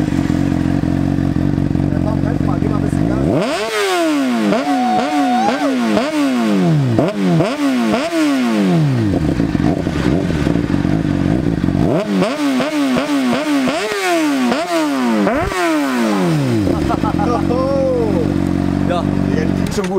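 Honda CBR 600 RR supersport fitted with a Bodis QS1 aftermarket exhaust, revved hard in repeated rising-and-falling bursts of loud, raspy howl, two clusters of throttle blips separated by a lull at idle.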